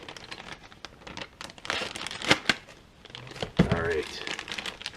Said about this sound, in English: Let me get out my Ginsu here so I can cut this bag open.